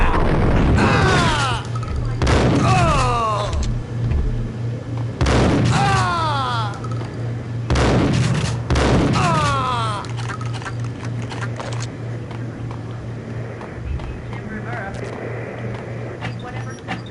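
Gunfire in the shooter game Max Payne comes as several loud, reverberant bursts of shots and booms spaced a couple of seconds apart over a steady low hum, fading into quieter ambience.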